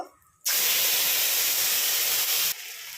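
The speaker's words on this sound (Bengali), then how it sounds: "এবার জিরে ফোড়ন দিলাম।" Cumin seeds hit hot oil with a sudden loud, broad sizzle that holds steady for about two seconds, then drops to a softer ongoing crackle, with no talking.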